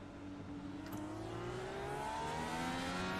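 Several IndyCar race cars in a video game accelerate together at a green-flag start, a steady layered engine drone with rising pitch sweeping across the whole clip, loud and continuous with no talk.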